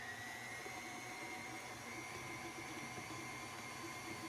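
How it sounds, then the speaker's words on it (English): A stand mixer creams sugar with butter, producing a faint, even motor hum that holds steady without pauses. "I'm going to go ahead and cream the sugar with the butter."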